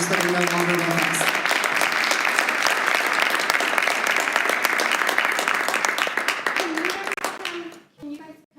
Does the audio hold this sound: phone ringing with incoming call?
no